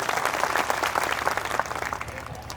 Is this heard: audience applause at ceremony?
yes